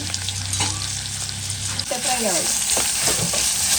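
Onions sizzle loudly in hot oil, a steady crackling hiss joined by a few stirring scrapes, with a low hum fading out early.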